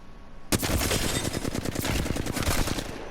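Rapid automatic Flatline rifle fire in the video game Apex Legends: a sustained burst of evenly spaced, loud shots after a brief quiet start, with no talk.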